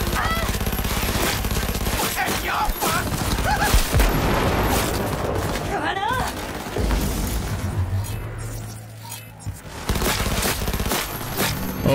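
SMG fire in Cyberpunk 2077 rattles in rapid bursts amid heavy combat noise and booms, loud and dense, with a brief lull near the end before firing resumes.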